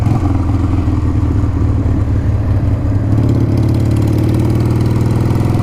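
A Harley-Davidson Sportster engine rumbles loud and close, a steady low idle that rises slightly in pitch partway through and then holds.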